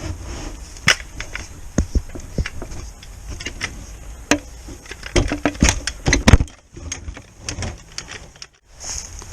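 Sharp metallic hammer blows drive felling wedges into a cut tree outdoors. The strikes come close and loud in irregular bursts, some fast and clustered and others spaced, over a quieter background.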